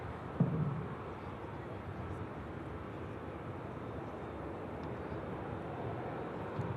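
A Saudi airliner departs Manchester Airport, heard as a steady, distant jet roar that holds evenly throughout.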